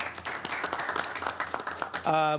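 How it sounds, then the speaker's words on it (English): Applause at a transportation authority board meeting, with a mix of claps heard under ongoing speech, moderately quiet, followed by a brief tonal sound at the very end. "Give her a big round of applause."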